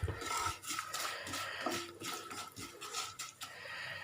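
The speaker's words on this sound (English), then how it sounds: "So we'll keep oil in a pan and we'll start frying these koftas." Bottle gourd koftas frying in hot oil in a pan, a steady crackling sizzle with scattered pops and bursts running throughout, moderately loud and close with no talking.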